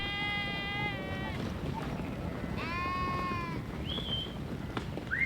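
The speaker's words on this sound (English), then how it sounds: "After the sheep are driven into corrals, they are separated." Sheep bleat over and over on the Patagonian range as herdsmen round up a flock, with long wavering cries and shorter higher calls rising above a steady windy rumble.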